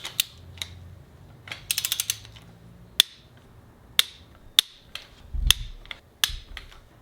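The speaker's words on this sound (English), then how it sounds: "Now further tighten all bolts to 51 foot-pounds, same alphabetical sequence." A torque wrench tightens the bolts on a Subaru EJ207 STI long block in sequence, sharp metallic clicks spaced about a second apart with a short quick ratcheting burst, close and crisp.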